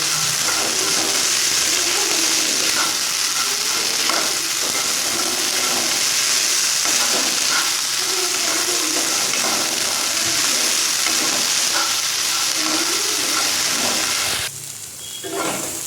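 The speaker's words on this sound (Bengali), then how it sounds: "শুধু নুন দিয়ে একটু কাঁচা লঙ্কা দেবো, এটা দিয়ে ভেজে নেবো" Salt and chopped green chili frying in hot oil, a loud, steady sizzle and hiss that runs continuously and close up before briefly dropping away near the end.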